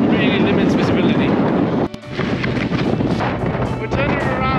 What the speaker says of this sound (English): It's windy again up here.